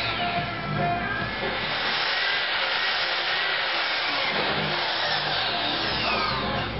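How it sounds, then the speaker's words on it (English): Continuous harsh, gritty sawing noise of an aluminum plate being cut, steady and close with no pauses, a bright hiss running throughout. "We're done cutting the aluminum plate, so we got a nice little piece of aluminum."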